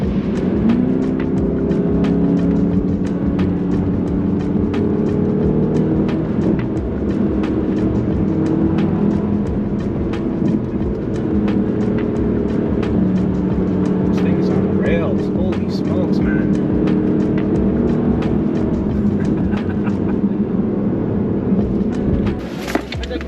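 A Porsche Panamera GTS engine drones steadily from inside the cabin while driving in manual mode, with a continuous loud rumble and shifting tones, and faint speech underneath.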